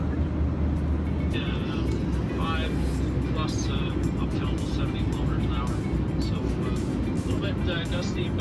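Inside an airplane cabin in turbulent flight, a loud constant roar and rumble of the engines and airflow fills the whole stretch, with people talking over it.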